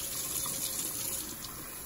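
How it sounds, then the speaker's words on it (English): Tap water runs into a large mason jar packed with quartered sweet potato pieces, a steady close gushing hiss with no talk. "Fill it with running water"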